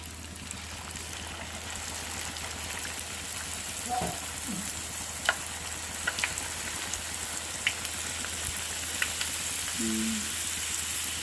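Puris frying in hot oil make a steady broadband sizzle with scattered crackles and pops, close and continuous, with a brief murmur of voice partway through.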